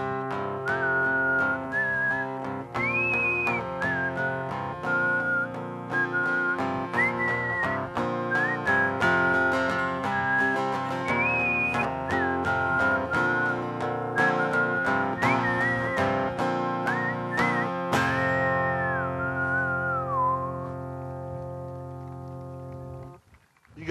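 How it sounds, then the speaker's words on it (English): An outdoor park concert crowd whistles a song's solo together over a band accompaniment, the tune rising and falling in bright phrases before fading at the end. "let's whistle the solo"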